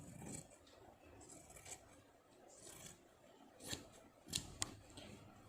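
Scissors cutting fabric along a shaped neckline: soft, quiet snips and slicing strokes at irregular intervals, faint and close, with a few sharper cuts near the end and no talk.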